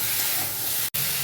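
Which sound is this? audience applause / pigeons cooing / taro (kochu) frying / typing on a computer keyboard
taro (kochu) frying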